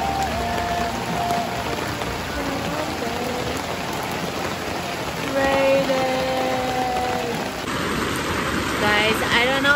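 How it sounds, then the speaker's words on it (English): Heavy rain pours steadily in a dense hiss at a Grundy Lake Provincial Park beach campsite, drumming close by without pause. "it's raining so freaking much. Can you hear it?"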